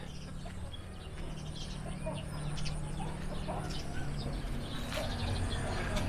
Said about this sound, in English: Big chickens. These have all escaped.